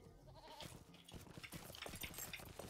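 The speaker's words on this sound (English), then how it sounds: "It's a goat." A goat bleats in the fantasy online game Lord of the Rings Online, a few quiet wavering bleats set against faint game ambience.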